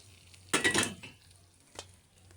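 Sautéed onion and garlic are tipped into a pan for monggo, a short close burst of scraping, clinking utensil and sizzle, followed by a quieter clink, with no talking.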